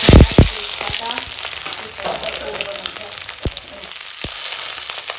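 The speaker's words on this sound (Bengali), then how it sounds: "এখানে কড়াই তেল দিয়ে দিয়েছি এখন দিয়ে দেবো কাঁচা লঙ্কা" Green chilies sizzle and crackle steadily in hot oil in a wok, close up, with a few sharp knocks of a utensil against the pan.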